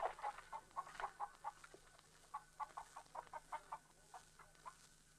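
Chickens cluck in a short burst of quick, rhythmic calls in a scene from a western movie. The calls are fairly faint and sit over a low background hum.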